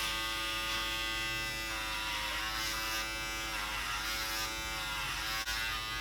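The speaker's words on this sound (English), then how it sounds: "They do make a bit more noise than a normal salon clipper" An inexpensive Kmart Home & Co electric hair clipper buzzes steadily and fairly loud, a constant whirring drone with slight shifts in tone as it moves.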